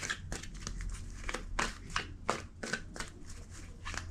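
Tarot cards riffle and slap together in a quick series of crisp shuffles, close by, with no talking.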